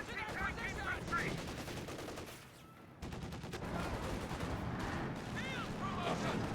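Gunfire and machine-gun bursts in the World War II strategy game Company of Heroes 2, a dense battle din with a brief lull midway, while voiced unit barks shout over the fighting.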